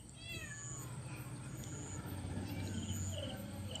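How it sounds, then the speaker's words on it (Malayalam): A cat meows nearby in a few short rising calls early on, then fainter, over a steady background of insect chirring and a low hum. "വേറെ ഇവിടുന്ന് പൂച്ചയുടെ ശബ്ദമുണ്ട്."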